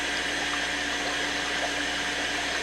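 Water rushes steadily through an aquarium siphon hose during a partial tank water change, a continuous close hiss and gurgle with no break from start to end.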